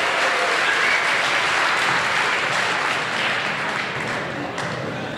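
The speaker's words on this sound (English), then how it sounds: "Give yourselves a huge round of applause." Sustained applause from a conference audience at an opening keynote, a dense, steady wash of many hands clapping at even loudness throughout with no voices rising above it.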